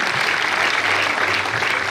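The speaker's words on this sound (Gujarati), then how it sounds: "મિત્રો તાળીઓના ગડગડાટથી વધાવીએ આ સૌને" Audience applause at an award ceremony, a prize-giving event held by a coastal community foundation, with steady dense clapping that carries on for the whole stretch without any speech.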